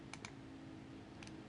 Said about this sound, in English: you can see I'm typing it into the search box here